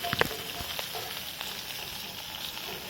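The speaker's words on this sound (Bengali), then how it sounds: "আর এখন মাছ ভাজা হচ্ছে।" Fish frying in a pan, a soft, steady sizzle with a few light crackles and a sharp spatter early on, fairly quiet and unbroken.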